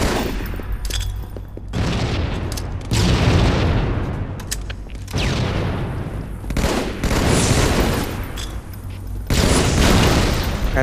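Heavy weapon fire in a capture-the-flag video game match on the Midship map, with loud booming bursts repeating in uneven clusters across the whole stretch, punctuated by brief dips between volleys.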